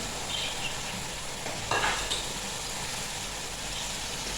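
Peas go into sizzling masala for vegetable pulao, a steady close frying hiss with a brief brighter crackle burst as they hit the pan, then settling back to an even sizzle.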